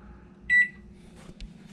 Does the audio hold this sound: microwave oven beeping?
yes